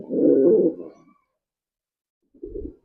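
An active, agitated male pigeon on a farm gives low, throaty coos up close: a longer rolling burst, a pause of silence, then a shorter one, with no talking.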